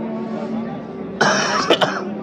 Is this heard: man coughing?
yes